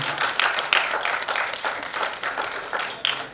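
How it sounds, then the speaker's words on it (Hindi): Audience applause at the Bharat Ratna Dr. APJ Abdul Kalam Awards ceremony, a sustained, dense burst of many hands clapping, loud and close throughout, with no talking over it. "देखिए सबसे ज्यादा तालियों की आवाज अनु मलिक जी की आ रही है।"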